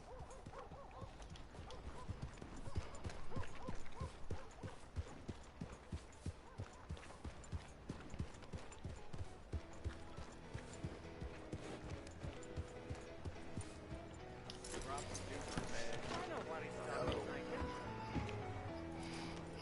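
Hooves of a grey horse clip-clop at a steady walking rhythm in the open-world game Red Dead Redemption 2, soft and fairly distant, joined by other game sounds and a brief rise of noise near the end.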